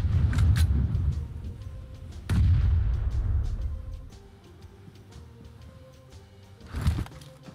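A grenade goes off in the video game PUBG Mobile with heavy low booming blasts, two big detonations close together and then a rumbling tail. A later, smaller burst follows, with no talking.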